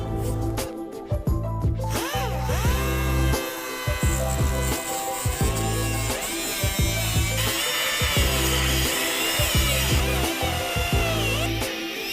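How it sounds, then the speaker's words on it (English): Power tool grinding through the head of a rusted bolt and weld nut during a trailer hitch installation, loud close whining cut with pitch dips as it bites into the metal, continuous with brief pauses. "We're just going to cut the head off of this bolt and drive that bolt and weld nut up and out of our way."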